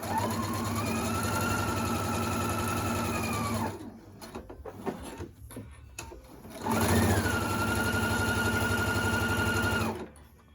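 Sewing machine stitching a fabric face mask, two long steady motor runs with a pause of handling noises between them, loud and close.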